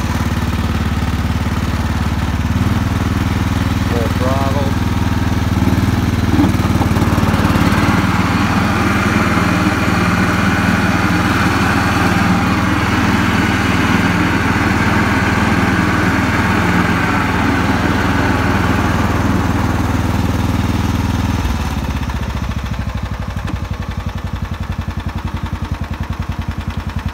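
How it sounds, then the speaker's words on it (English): A Kubota T1560 riding lawn mower engine runs with autothrottle, idling loud and close, rising in pitch as the throttle picks up and then dropping back to a lower idle near the end. "Great mower."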